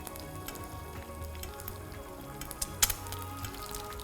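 An egg frying in a pan while hot fat is spooned over it, a quiet steady sizzle close by with a few small crackles and pops.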